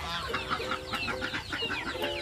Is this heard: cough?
no